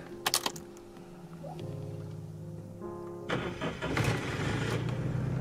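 A car's key goes in with a few sharp clicks and rattles, then the engine cranks and catches, settling into a steady idle up close, with no one speaking.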